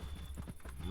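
Cows in the video game Ancient Kingdoms 3 give a short clip-clop of hooves with livestock shuffling and a low rumble, steady and close.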